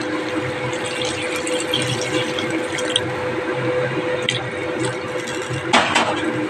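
Water poured into a pan of sautéed spiced chicken, a continuous gurgling wash of liquid over a bubbling simmer with a louder splash near the end, close by.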